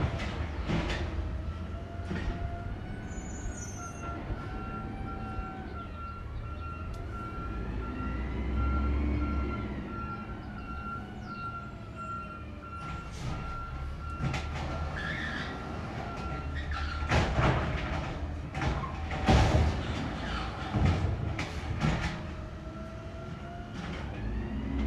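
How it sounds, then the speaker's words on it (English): A garbage truck passing close by, with a low rumbling engine, a sustained whining tone and bursts of hiss and clatter that swell louder toward the end. "Sorry, there's a trash truck close by."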